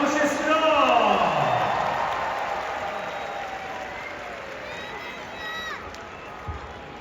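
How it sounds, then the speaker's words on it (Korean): Stadium crowd applauding during a post-match award ceremony after a Daegu FC versus Chungnam Asan relegation playoff, a broad wash of clapping and crowd noise that swells early and then fades under a public-address voice. "박수로 모시겠습니다."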